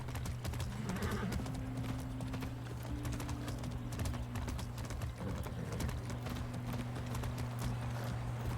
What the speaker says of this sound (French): C'est un cheval supersonique.